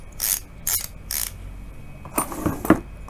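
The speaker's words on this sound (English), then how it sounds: "It's not really loud because I think there's a lot of grease inside the free hub." A bicycle's greased rear ratchet freehub clicks as the wheel spins, giving several short bursts of fast, crisp ticking, fairly quiet, with brief gaps between spins.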